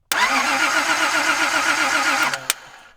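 A car engine cranks over without starting, a loud, close, rapid pulsing churn of the starter that runs for over two seconds, then cuts off with a sharp click and fades to quiet.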